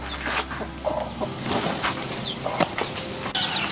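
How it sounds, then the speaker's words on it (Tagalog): Native chickens roaming free after foraging cluck in short, irregular bursts, with a few brief calls from several birds, close by against a light outdoor background. "Ito na yung mga manok natin na gumala."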